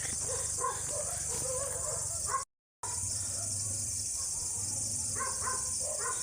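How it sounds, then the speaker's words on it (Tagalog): Several scattered dog barks at a moderate distance, some clustered together, over a steady outdoor hiss of insects and a low hum. "papapalapit yung mga ingay ng aso"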